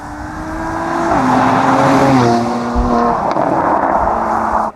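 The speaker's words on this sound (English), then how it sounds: "The most standout thing about this car is how good it sounds." Mercedes C43 engine running steadily and loud, with a clear harmonic drone that steps up in pitch a couple of times as it revs, sustained throughout with no talk.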